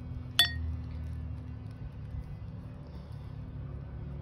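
Glass ornament from an estate sale gives a single bright, sharp clink early on as it is handled, close and brief, followed by quiet room hum.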